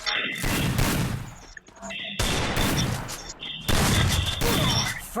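Gunfire in a shooting video game custom match: bursts of rapid shots in two or three loud clusters, with brief gaps between them and game effects in the background.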